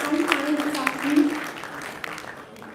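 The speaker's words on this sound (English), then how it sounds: "Please, guys, give them a round of applause" A live-event audience breaks into a round of applause, a dense patter of claps that holds fairly steady and then eases slightly, with a voice speaking over it.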